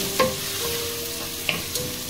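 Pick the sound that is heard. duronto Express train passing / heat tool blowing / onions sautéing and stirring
onions sautéing and stirring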